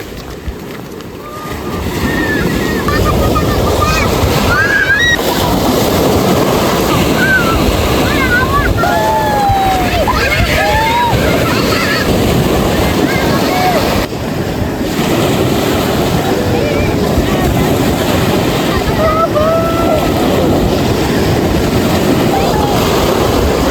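Steady roar of surf washing onto a beach, continuous and fairly loud, with wind across the microphone and faint voices now and then.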